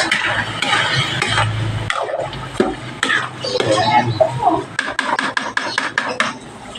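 Minced pork is stirred and cooked in a pan, with scraping, clattering utensil strokes and light sizzle, close and fairly loud, with sharp taps toward the end.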